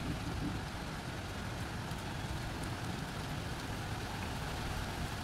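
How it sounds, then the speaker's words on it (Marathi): Heavy rain pours steadily through a stormy night, a dense, continuous hiss and patter close by, alone with no voices or other sounds breaking through. "आला पावसाचा आवाज"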